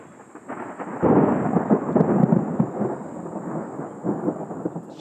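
Thunder from a storm in Namibia rolls in as a loud, sustained rumble that swells and fades over several seconds, with no voices present.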